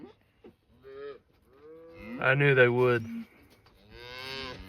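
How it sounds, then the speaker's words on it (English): Cattle bellow loudly at close range while working a mineral feeder, a long drawn-out moo swelling and fading, with softer lowing before and after and a person speaking briefly in between. "Those cows are hammering that mineral."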